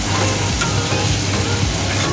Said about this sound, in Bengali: এরপর সবজিটাকে ভেজে নিচ্ছি তেলে, বাঁধাকপি, গাজর, আলু, পেঁয়াজ।